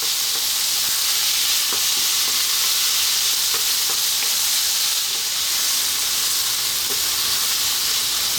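Garlic and ginger sizzling in a pan over fairly lively heat for a vegan eggplant potato curry, a steady close frying hiss with occasional light stirring clicks and pops, no talking.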